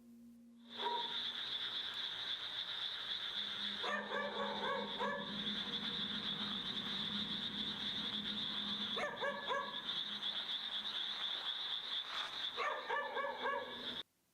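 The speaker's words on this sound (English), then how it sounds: "he decides to film as he searches for the barking dog" A dog barks in a graveyard at night, short clustered bursts of barking repeating several times at a distance over a constant high insect-like drone.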